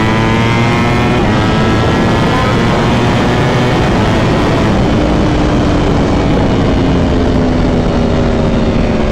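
Ducati Panigale V4 SP2 with a stage 2 ECU flash accelerating hard at full power on a track, a loud continuous engine roar whose pitch climbs steadily through the revs with no talking.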